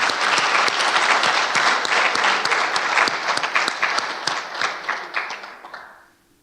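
Guests at a community awards banquet give a round of applause, a full crowd clapping steadily with distinct individual claps poking through, tapering gradually and dying away to near silence at the close.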